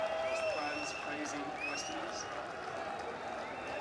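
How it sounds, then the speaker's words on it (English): Nepal fans in a cricket crowd applaud the visiting West Indies team at a Unity Cup match, a broad, steady wash of clapping and cheering from a large stadium audience, with a commentator's voice running over it throughout. "All of the Nepal fans are now applauding the West Indies."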